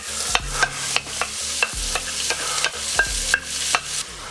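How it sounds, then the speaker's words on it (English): Vegetables sautéing with short ribs for a ragu, a steady close sizzle punctuated by regular clanks and scrapes of a utensil against the pan, with no voices. "Now we're going to add our vegetables."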